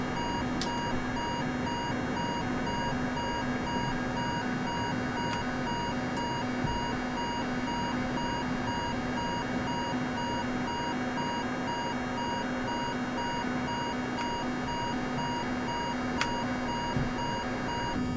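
Continuous cockpit warning alarm in a Boeing 747-100 in Microsoft Flight Simulator, a steady repeating tone held over a constant engine and cabin drone for the whole stretch, with no talking.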